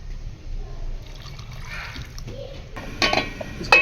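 Water is poured into a cooking pot of beef karahi, 2 to 2.5 litres, with a splashing, filling pour rising toward the end along with some pot clatter.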